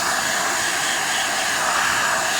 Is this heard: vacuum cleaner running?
yes